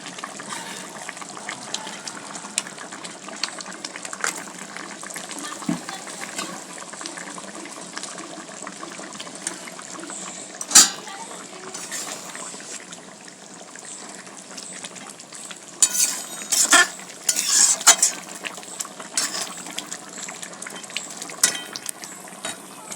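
Bhola fish curry (bhola macher jhal) simmers in a pan as raw mustard oil is added near the end of cooking, giving a steady wet bubbling sizzle with scattered sharper clinks and stirring scrapes.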